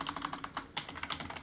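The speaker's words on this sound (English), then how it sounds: "I'm going to type in" Quiet, steady clicking of keys on a computer keyboard at a Windows 11 machine, a rapid run of soft taps typed close by with no talking.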